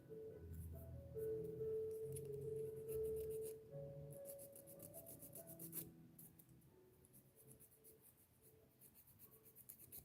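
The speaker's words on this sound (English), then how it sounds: "Slightly sanding or filing the inside so that the glue gets a rough surface to sit on" Steady scratchy rasping of a file worked against the inside of a fingernail, repeated in short strokes with faint tonal squeaks, no talking.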